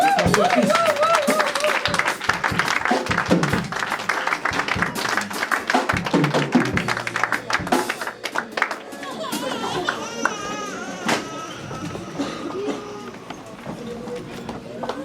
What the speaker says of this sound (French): Avec vos applaudissements, nous allons applaudir.